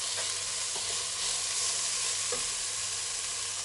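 Vegetables stir-fry in a pan for fried rice with a loud, continuous sizzle and a few faint stirring scrapes, close and steady throughout.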